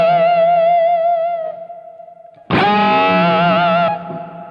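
Distorted electric guitar with a floating-bridge tremolo: a sustained lead note wavers in pitch and fades, then a second note is struck loudly and held with steady up-and-down vibrato before cutting off.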